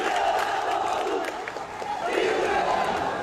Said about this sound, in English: Crowd is growing here.